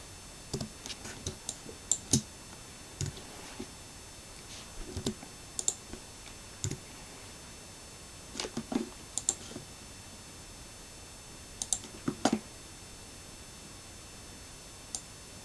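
Computer keyboard arrow keys are pressed in short, scattered bursts of quiet clicks and taps, some single and some in quick clusters, separated by pauses.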